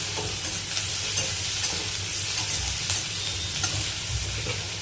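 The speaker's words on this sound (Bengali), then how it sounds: "পেঁয়াজগুলো আলুগুলো একসাথে ভাজা ভাজা হবে" Onions and potatoes fry together in a pan with a steady sizzle, accompanied by repeated scraping and stirring strokes and a low background hum.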